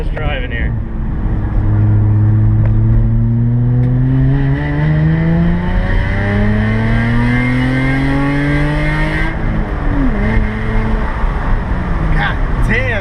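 A rusty budget rally car roars up through the gears, its engine note sweeping higher and dropping twice before easing off, loud and close from inside the cabin.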